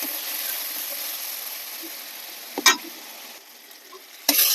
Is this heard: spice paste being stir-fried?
yes